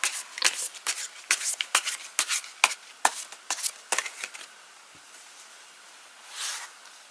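Tarot cards are shuffled close up in a run of crisp riffling bursts for several seconds, then the sound quiets to soft handling and a final brief swish.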